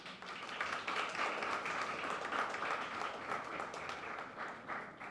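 Audience applauding at a constitutional law conference in Haiti, steady dense clapping filling the whole stretch at moderate level without pause.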